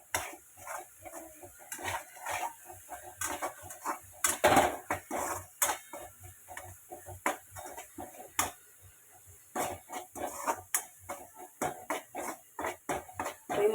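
Utensil scraping and clanking in a pan as paneer masala is stirred and cooked until the oil separates, a steady run of close metallic knocks and scrapes with faint sizzling beneath.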